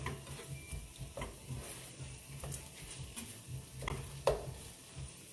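A spoon stirring dirty rice with meat in a pot, soft scraping strokes repeated under a faint sizzle, close and fairly quiet, with one sharper clink near the end.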